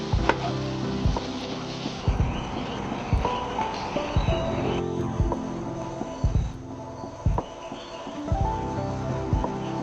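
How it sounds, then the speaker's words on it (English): A knife slicing through cooked medium-rare beef steak outdoors in a forest camp, with repeated soft cutting scrapes and small taps of the blade on a board, close and irregular, with no speech. "Then Ruru picked up her knife to cut it, the blade slicing perfectly, revealing the juicy texture inside."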